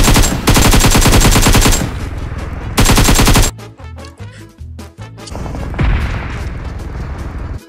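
Rapid automatic fire from an MP submachine gun in a video game, loud bursts of repeated shots separated by brief gaps, with game sound and music continuing beneath.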